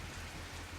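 Steady storm rain in Call of Duty MW3 pours down in a dense, even hiss with a low rumbling undertone, continuous and unbroken through the moment, with no voices.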